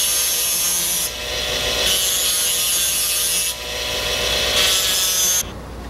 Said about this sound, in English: any remaining excess is dressed down with the disc